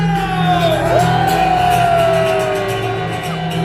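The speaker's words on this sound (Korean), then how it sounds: "탄핵의 함성 시작" Large impeachment protest crowd chanting and shouting in unison at a candlelight rally, a loud, dense roar of many voices sustained throughout, with a rising whoop-like sweep near the start.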